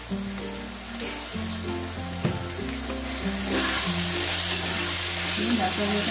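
Loitta fish jhuri fries with tomato and red chili powder on medium heat and gets stirred in a pan, making a loud continuous sizzle with scraping stir strokes. Background music plays underneath, and the sizzle swells louder toward the end.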